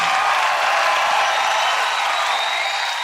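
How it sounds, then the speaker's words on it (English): A live audience breaking into steady applause and cheering for a legend's introduction, a dense, even wash of clapping that continues throughout at close range. "Let's give a big round of applause for the legend, the professor, the glow"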